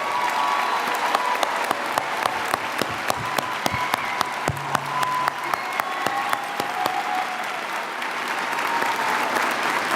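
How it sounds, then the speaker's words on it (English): A commencement audience applauds graduating Master of Fine Arts students, steady sustained clapping from a large crowd with sharp individual claps standing out throughout, even and continuous for the full stretch. "Join me in applauding our MFA graduates one more time."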